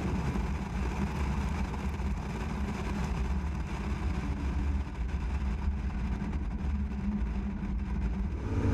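4x4 driving up a sand dune slip face, its engine a steady, loud, low-pitched roar that continues without a break.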